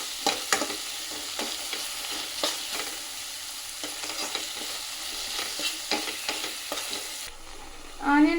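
Sliced onions frying golden in oil in a pan for a fish curry, with a steady sizzle under repeated scraping strokes of a spoon stirring them, close and fairly loud, no talking.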